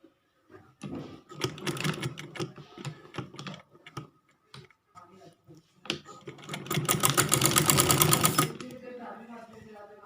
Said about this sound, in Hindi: तो हम अब इसकी सिलाई लगा के आपको दिखाते हैं।